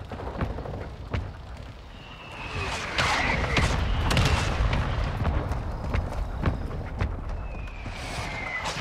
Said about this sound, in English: Hostiles launched a mortar strike.